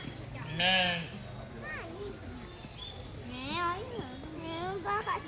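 A goat bleats several times in Cameron Highlands, wavering cries over background chatter and voices of people nearby.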